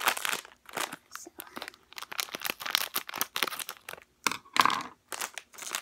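Plastic blind bag being cut open with scissors, a run of close crinkling and crunching snips with pauses between, while someone talks over it.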